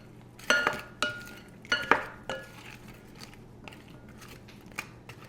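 Air-fried chicken wings are tossed in a bowl with butter sauce, giving a few sharp clinks and clatters of utensils against the bowl followed by softer shuffling, close by and without talking.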